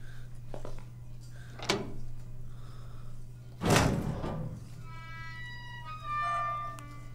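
A door in a horror video game opens and shuts with two dull thuds, the second louder, over a steady low hum, followed by faint ringing game tones.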